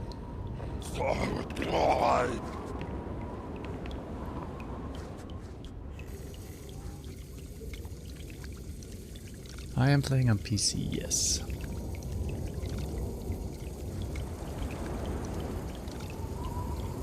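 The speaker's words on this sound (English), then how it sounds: "Why do I hear water running?" Water runs in a dim location in the video game Call of Cthulhu: Dark Corners of the Earth, a steady faint rushing flow that continues throughout while someone speaks briefly near the start and other voiced sounds cut in midway.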